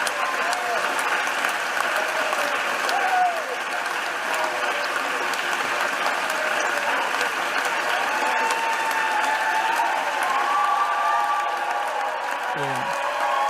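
Steady crowd applause and cheering in a Senate chamber after a speech, continuous and moderately loud throughout with faint scattered voices mixed in.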